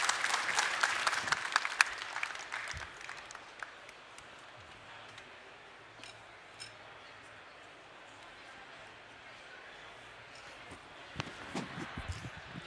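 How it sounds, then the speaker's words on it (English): Audience applause for a panel at a life science tech conference stage, a burst of clapping at the start that quickly fades to a quiet room with a few scattered claps and faint voices near the end. "Let's give a round of applause for the panel."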